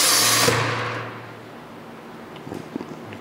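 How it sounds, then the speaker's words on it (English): Blum mini press with a seven-spindle line boring attachment drops its clamps: a loud pneumatic hiss and hum cuts off after half a second, followed by a few faint mechanical clicks and knocks. "The first thing that's gonna happen is you're gonna see the clamps come down."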